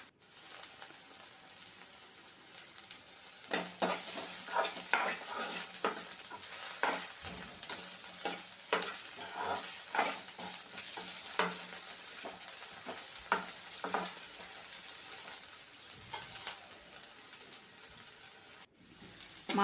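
Chopped okra sizzles and fries in a pan for a ridged okra chutney, with a soft continuous hiss broken by repeated scraping and clinking as a spatula stirs the pieces, close and fairly quiet.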